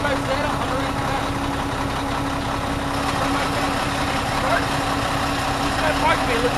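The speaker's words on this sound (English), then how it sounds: "starting the engine" A truck's engine runs at a steady, continuous idle with a low rumbling drone and a constant hum throughout, while a person talks over it.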